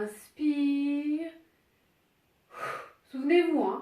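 A deep inhale during a standing Pilates strengthening exercise, a breathy pull heard near the microphone, with someone speaking French around it and a pause of near silence between.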